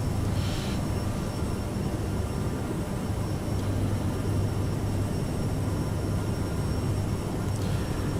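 Aerosoft CRJ regional jet on its takeoff climb in Microsoft Flight Simulator, a steady, loud broadband engine roar holding constant throughout with no voices over it.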